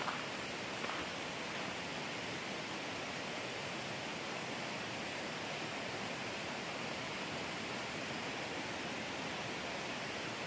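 The Lehigh River flowing through Lehigh Gorge State Park makes a steady, even rushing wash of water that stays constant and moderately loud throughout, with no voices.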